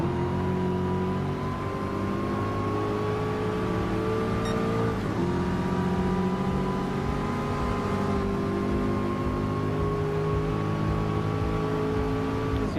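A Mach Forty Mustang custom muscle car in Gran Turismo Sport holds a loud, steady engine drone with one brief dip in pitch at a gear change before settling back, close and alone without talk.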